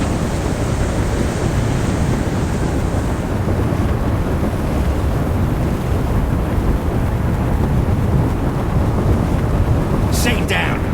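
Strong wind buffets steadily during a helicopter landing in the video game Crime Boss: Rockay City, a dense, loud rushing roar that continues without a break, with a brief higher hiss near the end.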